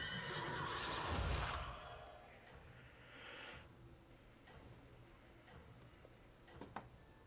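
Horses neigh in the Hearthstone Battlegrounds card game: a loud whinny near the start, followed by fainter game sound effects, soft ticking and scattered clicks.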